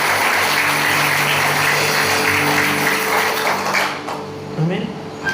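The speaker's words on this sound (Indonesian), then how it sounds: "Berikan tepuk tangan buat Tuhan." A church congregation claps in sustained, dense applause that fades near the end, with some voices mixed in.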